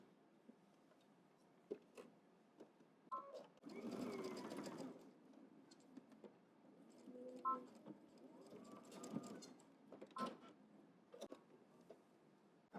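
A sewing machine stitches a double-breasted jacket, pivoting at a folded edge: bursts of motor whir run in short runs and one longer stretch, with faint clicks between, close and fairly quiet.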